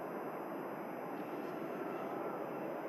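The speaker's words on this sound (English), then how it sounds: "EasyJet just climbing out of Manchester there." An EasyJet airliner climbing out of Manchester Airport gives a steady, broad jet roar that holds evenly throughout, heard from a distance with no talk.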